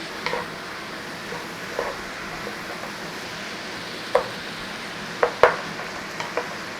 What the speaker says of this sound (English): Start to break our mince up in there, start to cook it down.